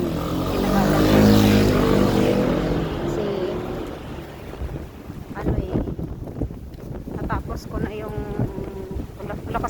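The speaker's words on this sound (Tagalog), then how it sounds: "Lakas ng hangin." Strong, cold early-winter wind in Korea roars across the microphone in loud gusts, with a voice speaking briefly underneath as the blustery noise rises and falls.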